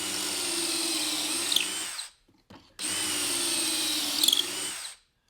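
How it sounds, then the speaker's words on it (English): Power drill boring pocket holes through a Kreg jig clamped to a table, two steady whining bursts of about two seconds each separated by a short pause, close and loud with no talk. "we'll go ahead and drill right now with our little Craig jig"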